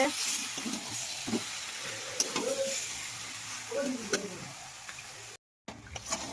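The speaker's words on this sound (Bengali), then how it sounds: "আমি এদিকে রান্না করছি মাংস কষানো হচ্ছে" Meat being sautéed in a pan gives off a quiet sizzle with occasional stirring scrapes, heard faintly under background voices and household sounds.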